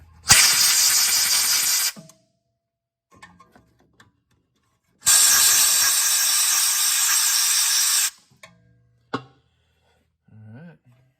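Brake cleaner sprayed onto the brakes of a Honda Prelude in two long hissing bursts, about two and three seconds each, close and loud, followed by small clinks and handling noises.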